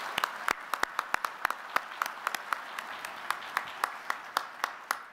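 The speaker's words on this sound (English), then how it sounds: "please join me in a well-deserved round of applause for these tremendous instructors" A smallish audience claps for police training instructors at a police graduation ceremony, with sparse, distinct hand claps at a modest distance, steady and unhurried, and no talking over them.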